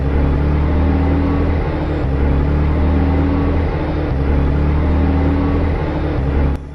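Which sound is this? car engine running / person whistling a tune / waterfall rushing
car engine running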